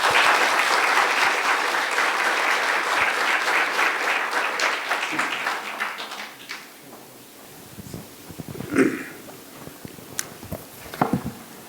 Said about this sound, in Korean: 큰 박수로 모셔서 강연을 청해 듣도록 하겠습니다